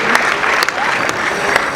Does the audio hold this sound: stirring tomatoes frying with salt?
no